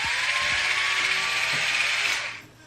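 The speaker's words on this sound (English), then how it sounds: "this is a electronic foot scrub" A small electric Pedi Perfect foot scrubber with a pumice roller spins with a steady, high-pitched motorized whir that winds down at the end.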